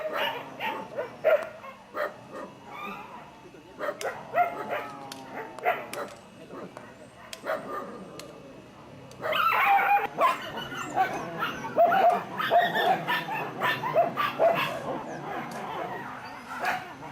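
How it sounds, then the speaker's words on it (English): Rescued dogs at a Thai government shelter bark, yip and whimper, many voices overlapping near and far, with people talking underneath. "Nice dogs, aren't they?"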